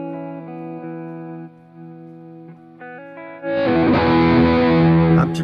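Distorted electric guitar played through an ENGL Steve Morse signature amp with its noise gate engaged: sustained chords ring cleanly, then a loud, dense crunchy strum swells in the second half, with no talking.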